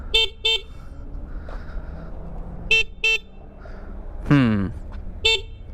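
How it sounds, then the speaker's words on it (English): Horn on a Talaria electric dirt bike beeps in short pairs and singles, five bright toots spread across a few seconds, with a brief voice in between. "Quick horn test."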